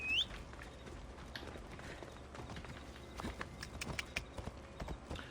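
Horse hooves in Assassin's Creed Odyssey clip-clop in a quiet, steady trot, soft and somewhat distant, growing a little more distinct toward the end.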